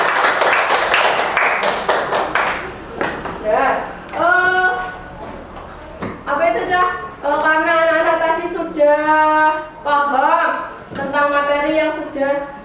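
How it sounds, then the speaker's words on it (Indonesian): A class of ninth-grade pupils gives a brief burst of applause in a classroom, and a teacher's voice then continues speaking. "kita beri tepuk tangan untuk anak-anak kelas 9"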